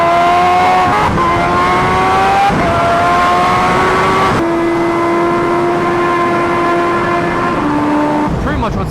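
A Kawasaki Ninja H2R motorcycle pulls hard through several gears, its engine note climbing in rising sweeps broken by brief shift gaps, loud and close under constant wind rush.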